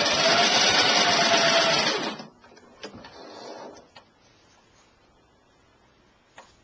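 A sewing machine runs a test stitch on a scrap of fabric while a caftan dress is being made, whirring loudly and steadily for about two seconds before stopping, followed by faint handling clicks and a quiet room.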